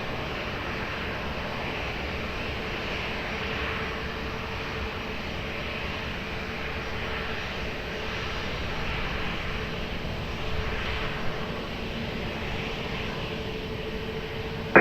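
An airplane at Lisbon Airport makes a steady, distant broadband roar that holds evenly throughout, swelling slightly now and then with no speech.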